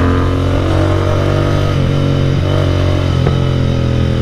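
A loud Kawasaki Z800 motorcycle engine drones steadily in traffic, with a few sharp exhaust backfire pops breaking through near the middle and end.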